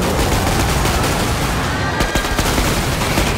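Dense, relentless video game gunfire, rapid machine-gun bursts blending into a loud continuous wall of shots with no pause throughout.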